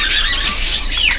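Caged birds calling at a busy bird market in Pramuka, with dense, high-pitched squawks, chirps and shrill squeals that overlap continuously at close range.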